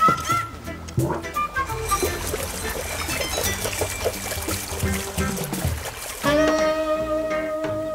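Generator-powered water pump driving water through power hoses, heard as a steady rushing, pouring wash with clattering mechanical knocks and a louder surge near the end; no talk over it.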